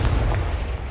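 The Confringo blasting spell cast in Hogwarts Legacy, a single heavy, booming blast with a deep low rumble that decays quickly, loud and close.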